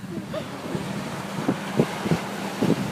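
Wind buffets the microphone on an Irish coast, with sea waves surging and washing steadily in a continuous roar.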